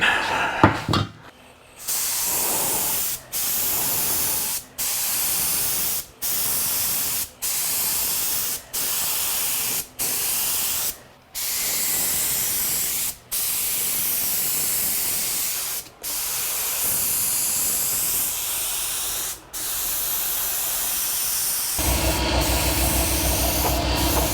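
A spray gun paints an old Club Car DS golf cart part in repeated bursts, about a dozen loud, close hissing passes separated by brief pauses.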